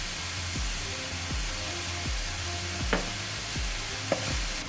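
Roadside-style mushroom masala simmers in a pan, giving a steady soft sizzle and bubbling with a few faint knocks and taps at intervals.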